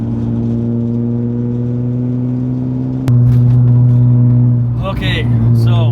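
Diesel BMW E36 car engine running at a smooth steady idle, loud and close, with a slight shift in tone midway and someone talking over the end.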